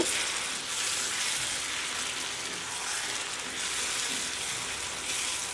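Beef kala bhuna frying in a pan while being stirred, a steady close sizzle with faint scraping, continuous and fairly loud throughout with no talking.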